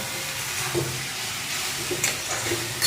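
Onions and kachurlati (taro stolons) frying in a pan while being stirred for a village-style Bengali dish, a soft steady sizzle with light scraping stir strokes, fairly quiet throughout.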